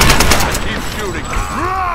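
Rapid gunfire from Tomb Raider, a loud close burst of shots at the start followed by game effects and whooshing sounds, with a voice briefly under the action.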